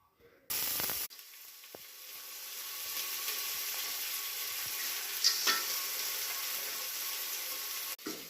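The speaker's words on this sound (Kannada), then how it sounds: "ಕಾಳನ್ನ ಇವಾಗ ಚೆನ್ನಾಗಿ ಹುರಿಬೇಕು" Sprouted horse gram fries in a pan after curry leaves go in, producing a loud, steady sizzle and hiss that begins abruptly and continues close up, with a couple of brief stirring scrapes and no talk.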